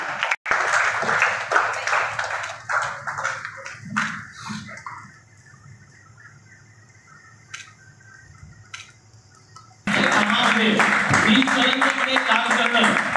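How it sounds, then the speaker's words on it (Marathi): Audience applause at the Lakshya award ceremony in the Wada Panchayat Samiti training hall, with scattered claps and voices at first, then a quiet lull, then a sudden loud burst of sustained clapping from the crowd. "जरा टाळ्या वाजवा"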